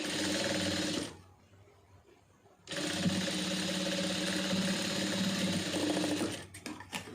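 Sewing machine stitching along the edge of a piece of cloth, a loud, steady mechanical whir in two bursts separated by a short pause, with a few faint clicks at the end.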